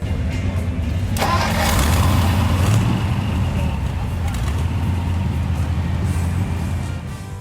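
A 1931 Ford Model A hot rod engine cranks and catches, then settles into a loud, steady rumble close by, with a brief rev early on.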